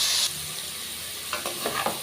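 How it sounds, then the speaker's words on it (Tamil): Bitter gourd pieces frying and being stirred in plenty of oil for a Tamil tamarind kulambu, giving a steady close sizzle with a few scraping stir sounds toward the end. "நல்லா வதங்கி வருது, ஆனால் இன்னும் வதக்கணும்."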